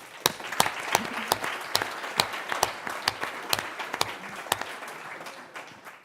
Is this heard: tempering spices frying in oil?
no